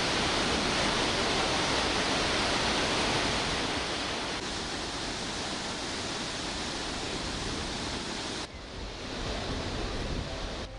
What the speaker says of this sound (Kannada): ಭರಚುಕ್ಕಿ ಜಲಪಾತ ಬಂಡೆಗಳ ನಡುವೆ ಭೋರ್ಗರೆದು ಹಾಲ್ನೊರೆಯಂತೆ ಹರಿದು ಬರುತ್ತಿದೆ